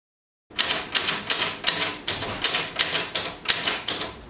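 Steady keystrokes from a Nadex Pioneer portable mechanical typewriter clack at an even pace, about a dozen crisp strikes close up, with nothing else audible.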